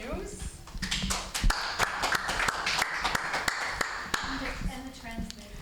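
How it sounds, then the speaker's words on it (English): Audience applause rises at the close of a healthcare platform launch session honoring a professor, steady clapping for several seconds with scattered sharp claps, while a voice speaks over it. "A round of applause for Professor Hughes."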